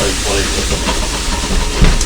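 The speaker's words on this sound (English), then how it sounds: "I'm going to reboil the kettle to make a lot of noise." A kitchen kettle reboils during a busy cooking-show apprentice challenge, making a loud, steady rushing hiss that fills the whole moment, with a bump of noise near the end.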